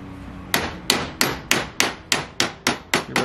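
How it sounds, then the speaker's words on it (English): Eight sharp metallic hammer taps ring out at an even pace on a nut left on the subframe of a Mercedes W109/W108 during a rebuild, close and loud, with each strike decaying briefly. "give that a few taps"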